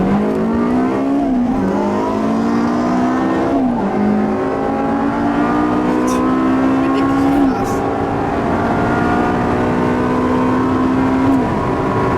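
A BMW M3 E30 engine revs and drones loudly and close, its pitch climbing repeatedly through gear shifts as it drives.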